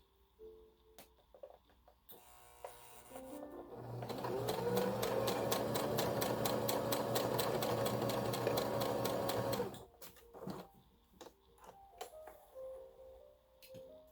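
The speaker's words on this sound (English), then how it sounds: "sew this elastic on the middle of the end." A sewing machine stitching elastic onto a bandana hairband runs at a fast steady rattle for about six seconds, with quieter handling clicks and fabric rustles before and after.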